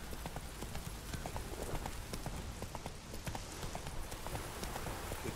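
Hooves of Roach, the horse in the video game Witcher 3, clip-clop in a steady continuous rhythm throughout, close and clear over a faint rain-like background hiss.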